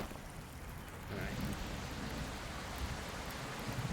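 Steady rain falling in the survival video game Project Castaway, a dense even hiss that thickens after the first second and continues at a moderate level to the end.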